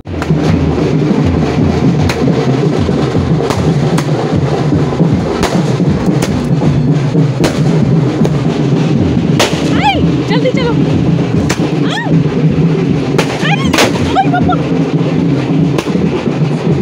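Firecrackers burst repeatedly at a wedding entry in Noida, with sharp cracks and pops scattered irregularly over a loud, constant crowd and music din.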